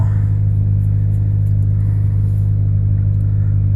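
A car engine running on choke after an idle control valve cleaning holds a loud, steady raised idle, a constant low drone with little change in pitch, close and alone.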